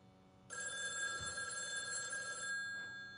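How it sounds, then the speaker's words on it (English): Telephone ringing in the video game The Renovator: Origins, a steady electronic bell ring that sounds for about two seconds and then cuts off, clear and moderately quiet, with no talk. "Alright, let's answer the phone call."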